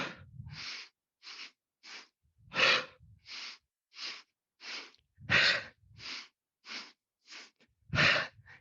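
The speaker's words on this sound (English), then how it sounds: "Powerful exhale out of the mouth, almost like a wheezing at the end there." A series of about fifteen forceful, breathy exhales during a yoga breathing exercise, evenly paced roughly every half second, some louder and fuller with audible in-breaths between, close and clear with no talking.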